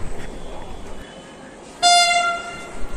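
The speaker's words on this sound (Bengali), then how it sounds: "আমাদের ট্রেন চলে এসছে।" A Vande Bharat train arrives at a station, sounding one clear horn blast partway through over a quiet background.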